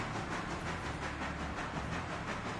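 A steam locomotive in the Railroader video game gives off a steady hissing, chuffing rush with faint rhythmic pulses, loud and continuous throughout with no voices.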